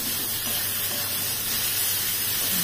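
Spice paste for a country chicken and potato curry sizzles steadily in a pan over low heat, a constant close hiss with no break and no talking.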